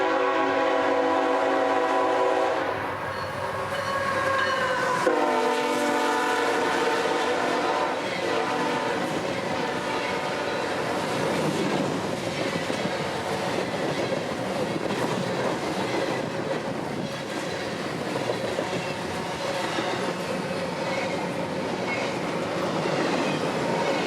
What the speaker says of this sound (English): Tampa's intermodal train, hauling north and wide open as I-044 tonight